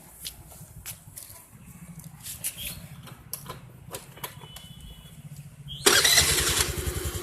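A Honda Activa 3G scooter runs at idle in its normal state, a low puttering engine beneath scattered clicks and handling noises, then a louder, brighter rev near the end.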